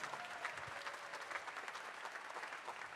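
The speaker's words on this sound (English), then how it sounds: "Let's keep that applause going for Mr. Amrit Samaroo, featured composer." An audience claps after a school steel band concert, the applause steady and fairly faint from start to finish, with no voices rising above it.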